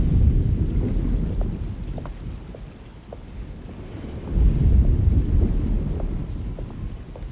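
Thunderstorm in the Alone in the Dark video game, with steady rain pattering and deep rolling thunder rumbles that swell twice, loud and close, with no voices.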